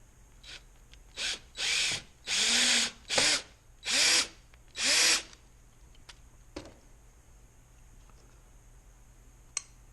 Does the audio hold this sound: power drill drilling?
yes